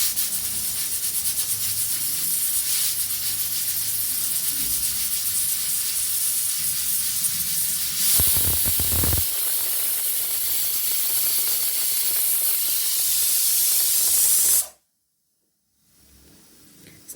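A kitchen pressure cooker vents steam in a loud, steady hiss with rattling mechanical chatter, surging briefly midway, then cutting off abruptly into near silence.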